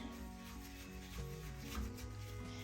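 Makeup brush scrubbed against the larger grooves of a silicone cleaning mat, a soft wet rubbing and swishing that repeats quickly and stays close and fairly quiet.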